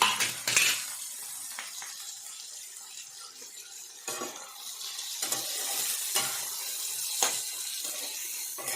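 Two bay leaves and onion greens hit hot oil in a pan for a tilapia oil jhal and are briefly stirred: a soft sizzle broken by several sharp scrapes and clatters of the spatula, with no voices.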